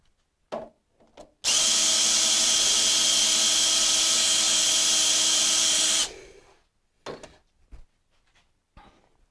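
A fully manual lathe with a collet chuck and DRO on all axes spins up and runs with a loud, steady whine for several seconds, then winds down, with short knocks and handling sounds before and after.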